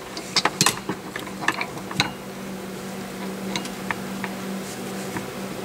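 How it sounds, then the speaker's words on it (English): Two small silver screws are driven into the steering column of a 1987-91 Ford truck, giving faint, sparse clicks and scrapes of a hand tool up close. "let's put 2 little silver screws in"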